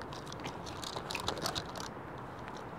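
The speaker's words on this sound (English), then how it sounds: "all the noise you're hearing now is the plastic parts basically rattling around on the hydration bladder" Small plastic parts rattle and clatter inside a Camelbak hydration bladder, a close, irregular clicking and crinkling that runs steadily throughout, slightly busier in the middle, with no talking.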